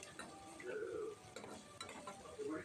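A large chopped onion sizzles faintly in a pan while a utensil stirs and scrapes it a few times, a close, quiet kitchen sound with no talk.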